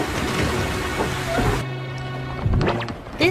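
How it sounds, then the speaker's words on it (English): Steady, heavy rain hisses throughout a storm, with a low rumble underneath and a few sharper splashes and knocks toward the end. "Rain fell hard."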